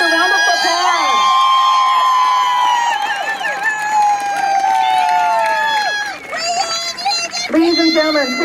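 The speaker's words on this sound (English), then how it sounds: "Join us in congratulating these seniors with a round of applause." A crowd cheers and whoops loudly for graduating seniors at a high school state championship game, a continuous roar with high shouts rising throughout.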